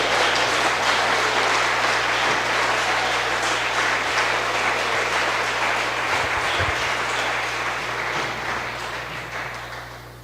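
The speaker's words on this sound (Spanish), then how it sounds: "Dale un mejor aplauso a su nombre." A church congregation applauds loudly and steadily, a dense wash of clapping that holds for about eight seconds before slowly tapering off, with a low hum underneath.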